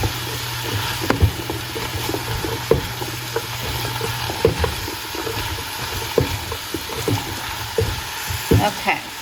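Yellow pepper, red pepper and celery are stirred in a pot, giving a steady sizzle and hiss with repeated clinks and scrapes of a utensil against the pot, near and continuous, with no one speaking.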